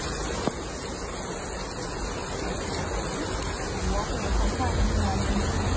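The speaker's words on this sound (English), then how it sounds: "Waves!" Floodwater surging along a roadside in Maraval, Trinidad, a continuous loud broadband rush of churning water, with a sharp knock near the start and people faintly talking in the background.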